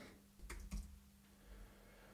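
Typing on a computer keyboard, a few quiet clicks bunched into a brief burst, faint and close against a low steady hum, with no talking.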